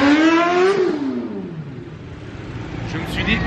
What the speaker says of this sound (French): il va peut-être falloir que j'accélère un petit peu